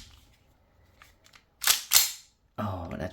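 Two sharp, loud shots from an ASG airsoft gun crack in quick succession at close range. A voice follows right after.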